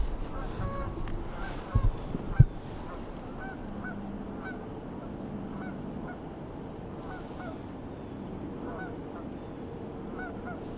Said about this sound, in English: One of those geese are coming right into the ponds.